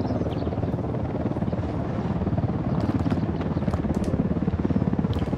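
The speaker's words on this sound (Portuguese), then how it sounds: "tem que ter cuidado com os helicópteros" A helicopter in Ghost Recon Wildlands thumps with a steady rotor pulse and engine drone, fairly close and strengthening toward the end, with no talk over it.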